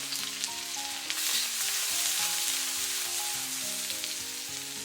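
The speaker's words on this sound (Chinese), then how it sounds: "把葱姜末给倒进来，煸炒出香味" Minced scallion and ginger stir-frying in oil in a hot wok, a dense continuous sizzle with faint spatula scrapes and soft background music underneath.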